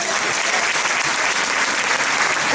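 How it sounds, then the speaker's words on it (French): Dense, steady applause from an audience at a live concert at the Café de la Danse, loud and continuous throughout with no talking over it. "applaudissements pour Fabrice"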